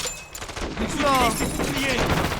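Gunfire in the Call of Duty Modern Warfare 2 campaign comes as a fast burst of shots against armored enemies, moderately loud, with a voice talking over it.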